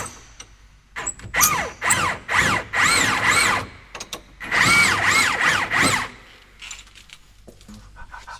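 A power wrench loosens nuts and screws during a car restoration, sounding in several loud whirring bursts that rise and fall in pitch, separated by short pauses, close up with no talk.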